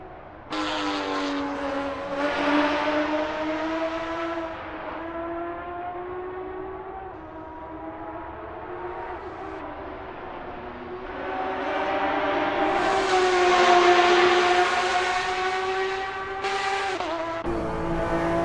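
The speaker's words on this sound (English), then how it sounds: "And away goes Andreas Dittmann, charging down Europcar like a bull at a gate" A Porsche 911 RSR race car at the Barcelona circuit in simulated racing, its engine howling steadily and rising in pitch as it accelerates, loud and continuous, with no voices.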